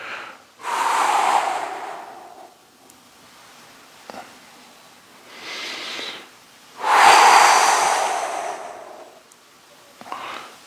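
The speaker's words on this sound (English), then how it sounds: "Remember to exhale as you stretch." Breathy exhalations during a standing side-bend stretch in a guided movement session, three long airy breaths out with quieter gaps between, the last one loudest and longest, close to the microphone with no talking.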